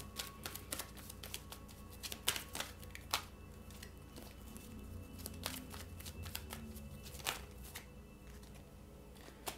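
Angel Answer oracle cards are shuffled in the hands, giving a steady run of crisp riffling clicks and flicks with a few sharper snaps throughout, close and fairly quiet, with no voice.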